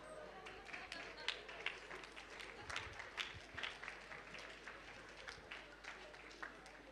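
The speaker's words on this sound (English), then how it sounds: "Give yourselves a round of applause." A crowd applauds, a dense patter of clapping hands that holds steady throughout, fairly distant and moderately loud.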